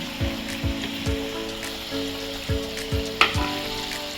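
A mushroom curry with turmeric, sugar, asafoetida and salt fries in a pan, giving a steady close sizzle and crackle with a few soft stirring thumps and one brief sharp clink.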